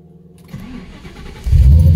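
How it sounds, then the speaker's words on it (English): Car engine starting up: a short starter crank, then the engine catches and bursts into a loud, close roar that holds to the end. "All right, so let's fire it up."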